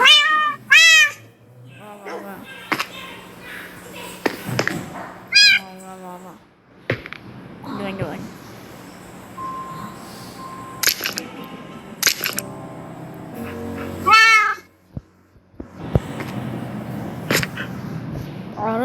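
A cat meows several times in bursts in Minecraft, mixed with clicks, electronic effects and other game sounds, with quieter stretches between.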